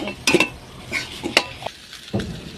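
Food stir-fried in a pan on a gas stove, with a utensil scraping and clinking against the pan in several quick, irregular bursts, close and fairly quiet, no voices.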